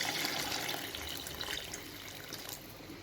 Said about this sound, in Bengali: মাংসটা যখন কষে নেওয়াই হবে আর কি তখন এই যে গরম জল দিবেন